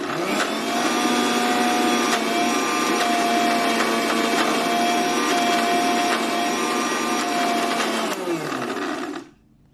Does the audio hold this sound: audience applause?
no